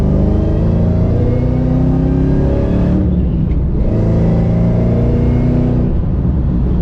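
Supercharged Kenne Bell 5.0 Foxbody Mustang engine pulls hard under acceleration, a loud, continuous roar from inside the car with a brief dip around the middle as it shifts, then climbs again.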